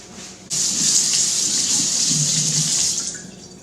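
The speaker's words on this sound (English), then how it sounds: "then we're going to run it under some cold water" Cold tap water gushes steadily into a sink as a backpacking knife with a mustard and vinegar patina is rinsed. The flow starts abruptly, runs loud and close for about two and a half seconds, then cuts off.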